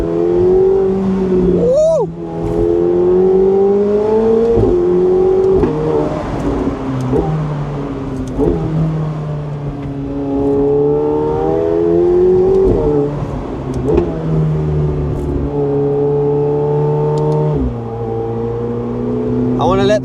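A McLaren 750S engine and exhaust are heard while driving, a loud, steady drone that rises through gears in repeated upshift sweeps, each climb ending with a brief drop before building again, with some talk over it.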